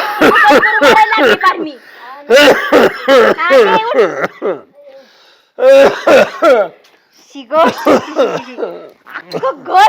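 A person coughs and clears their throat in loud, repeated bursts between stretches of close, lively talk.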